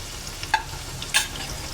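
Onions and green chillies frying for egg fried rice give a soft steady sizzle, broken by two brief scraping stirs of the pan, close and quiet, with no talking.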